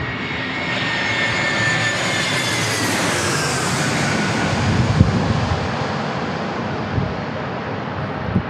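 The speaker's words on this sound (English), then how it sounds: "A321 for Delta Airlines here, landing" A Delta Airlines Airbus A321 lands at San Diego International Airport, a loud, steady jet roar with a whining engine tone that sweeps slowly downward, heard from the ground with no voices.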